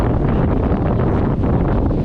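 Wind buffets a sailing boat under way in a good steady breeze of about 15 knots, heading for the Bahamas; constant loud broadband rush with no talk.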